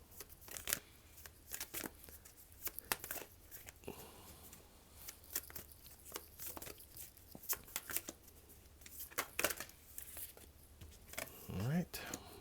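Tarot cards are shuffled and drawn in a series of close, crisp riffling and slapping bursts. The rhythm is uneven, with quiet pauses between bursts.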